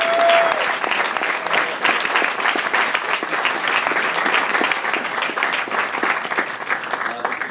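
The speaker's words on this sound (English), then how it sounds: "let's first have a round of applause for both the Tusillo and Mavera families" Wedding guests applaud for the two families, a dense, steady round of clapping from a crowd that holds at an even level throughout, with a voice briefly audible beneath it.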